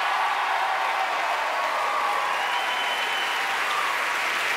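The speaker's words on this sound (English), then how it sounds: "Wow, sounds like they've got some friends in, doesn't it? Plenty of very excited supporters in the hall for our junior finalists" A school hall audience applauds steadily for junior school choir finalists at a UK choir competition, with dense, even clapping throughout and no voices over it.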